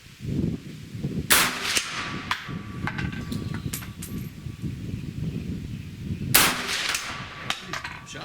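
Fire-damaged ammunition going off: two sharp, loud gunshot cracks spaced several seconds apart, with scattered clicks and handling noise between them.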